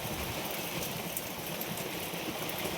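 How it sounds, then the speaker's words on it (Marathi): Steady rain falling outdoors in a village setting, a dense, continuous patter close by with no voices, holding an even level from start to finish. "पाऊस पडलाय"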